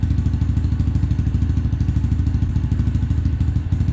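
A 2018 Chevrolet SSR idles through its new quiet muffler, giving a steady, low, even burble with a soft rhythmic pulse, heard close up with no talking.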